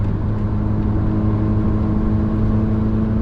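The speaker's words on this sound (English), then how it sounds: "Oh, listen to that engine." A steady, loud Ford Puma engine drone with a low throaty hum holds at constant revs in fourth gear, with no voices.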